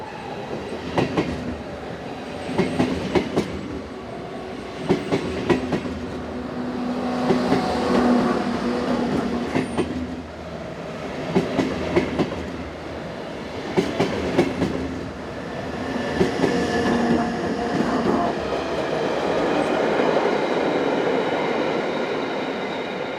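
A Swiss commuter train from Zurich, led by locomotives 450, 112 and 025, passes close by on the main line near Olten, with loud rolling rumble, rhythmic clickety-clack of wheels over rail joints and brief wheel squeal, no voices.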